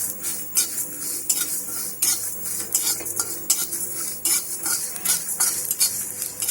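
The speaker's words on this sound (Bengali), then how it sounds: "এইভাবে একদম হালকা আঁচে এই মশলাটা ভেজে নিতে হবে" Spices and dried chillies fry over low heat in a pan for a sweet, sour and spicy olive pickle, heard as a loud, close crackling sizzle with busy rhythmic scrapes and clinks of a spoon stirring.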